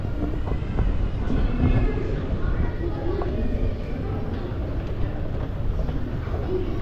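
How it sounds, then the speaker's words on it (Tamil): Metro train pulling to a stop at Chinatown station in Singapore, a loud rumbling, rattling roar with a faint squeal, heard close inside the station under ongoing chatter. "ட்ரெயின் நிற்குதுன்னு நினைக்கிறேன்."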